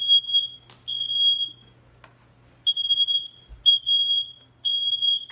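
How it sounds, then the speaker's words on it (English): A household smoke detector sounding off during dinner cooking, piercing high beeps in loud repeated bursts with short gaps between them. "So, I set the smoke detector off,"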